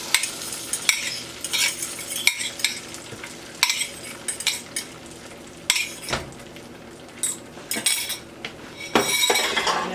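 Eggs cook in melted butter in a pan, with a soft sizzle running underneath repeated scraping and stirring strokes and occasional clinks of a utensil against the pan.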